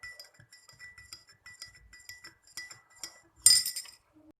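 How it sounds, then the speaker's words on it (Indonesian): Glass stirring rod repeatedly clinks against a glass beaker while mixing a solution in a laboratory, a steady series of light, bright taps ending in one louder clatter, close and otherwise quiet. "Kita aduk"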